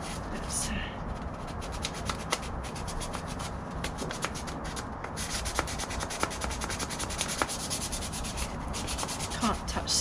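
Sandpaper rubs over a Nissan Micra K10 number plate lamp in quick, repeated scratchy strokes, steady and close throughout.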